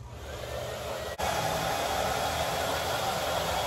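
Steady, loud hair dryer airflow roars throughout with only a momentary dip partway through, a constant broadband rush close by.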